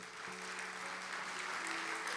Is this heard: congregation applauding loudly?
yes